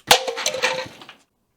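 A single sharp crunching crackle of a red Solo plastic party cup being struck or crushed, with brief rattling after that fades within a second.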